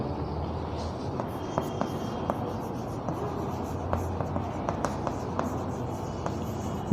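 A rule being written on a board during a 7th-class math lesson on multiplying decimals: steady scratchy strokes with small taps, close and fairly loud over a constant room hum, no talking.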